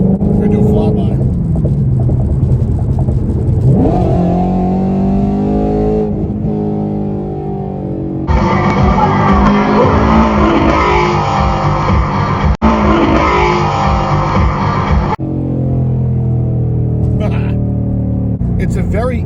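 A Ford Mustang GT350 with a soft clutch makes a flyby, its engine roar swelling into a loud, steady burst and then falling away, with someone talking over much of it.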